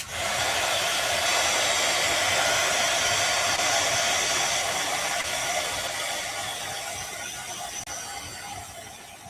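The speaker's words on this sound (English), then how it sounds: "Let me hit this with the heat tool." A heat tool blows hot air over paint on a sketch of rock studies, giving a loud, steady hair-dryer-like whoosh with a faint mechanical rattle that eases slightly toward the end.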